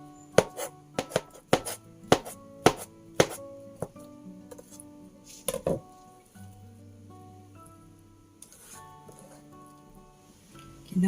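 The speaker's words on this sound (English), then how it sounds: "I'm going to slice." A knife slices through fish cake on a cutting board, giving a quick run of sharp, evenly spaced chops up close that thin out into scattered taps over soft background music.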